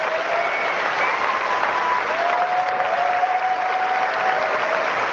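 A conference audience applauding, a dense, even wash of many hands clapping that holds steady throughout, with a faint tone running underneath.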